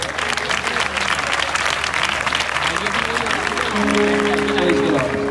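Loud, sustained applause from a crowd at a revival festival welcoming a pastor to the stage, steady throughout with music tones entering near the end and a voice speaking over it.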